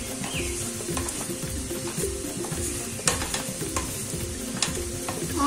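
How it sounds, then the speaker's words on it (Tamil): Onions sauté in a pan with rock salt while being stirred, giving a dense nearby sizzle broken by clicks and scrapes of the spoon against the pan, with no talking. "வெங்காயத்தை நல்லா வதக்கிக்கலாம்."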